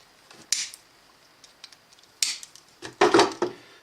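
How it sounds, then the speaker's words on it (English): Scissors snipping off excess material after tightening a fitting while assembling RC glider airbrakes, a few short sharp clicks and cuts spread out, close and quiet, with no talk. "snip off the excess"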